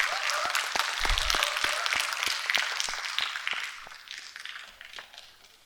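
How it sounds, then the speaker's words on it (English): Steady applause from an audience at a university talk event welcoming a speaker to the stage, a dense, even patter of many hands that holds and then gradually thins out toward the end. "A huge round of applause, everyone."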